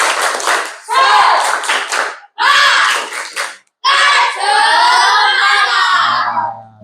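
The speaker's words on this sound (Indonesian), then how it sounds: "Tepuk semangat" Primary school children in a classroom perform a rhythmic spirit clap, loud bursts of clapping and chanting voices in short patterned phrases separated by brief pauses, ending in a quieter tone.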